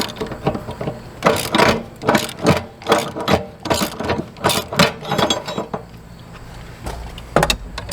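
A ratcheting socket wrench worked on an HVAC unit flue, close and loud, with about a dozen quick clicking ratchet bursts in an uneven rhythm and short pauses between strokes.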